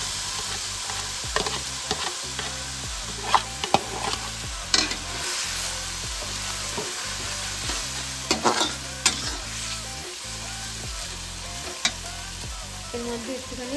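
Onion, garlic, ginger and chilli masala paste, stone-ground on a grinding slab, fries loudly in a pan while a spatula scrapes and stirs in a steady repeating rhythm, with sharper clinks of utensil against pan over a constant sizzle.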